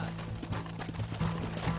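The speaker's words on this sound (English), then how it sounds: "Mount your horse!" Horse hooves clip-clop at a gallop in the Western video game Red Dead Redemption, with rhythmic, fairly faint hoofbeats, a brief whinny and game ambience.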